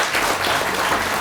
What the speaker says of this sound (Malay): Kita beri tepukan pada Puan Nomalah.